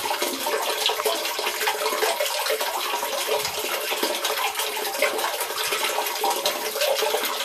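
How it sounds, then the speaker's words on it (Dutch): Water rushes steadily through a ram pump with a check valve that opens and closes. The flow is a continuous, fairly loud splashing, and no voices are heard. "En die eerste terugslagklep, je ziet, hij blijft gewoon lopen, hij gaat open en dicht"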